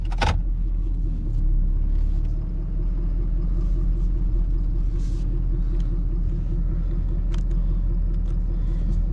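A 2011-2016 Ford Powerstroke diesel truck fitted with an S&B air intake drives along with a constant, heavy, low rumble, heard close from inside and without talk.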